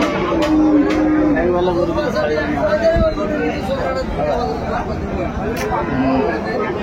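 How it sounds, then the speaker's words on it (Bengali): Cows and calves low repeatedly at a busy village cattle market, the Aftabganj haat in Dinajpur, their moos rising over constant crowd chatter and nearby voices talking. "চমৎকার গাভী বাছুর আমরা দেখছিলাম"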